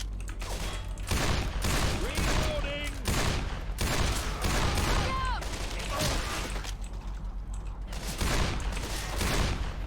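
Gunfire rings out in a Left 4 Dead 2 firefight with a Desert Eagle pistol, sharp repeated shots and bursts layered with game effects and shouting voices throughout.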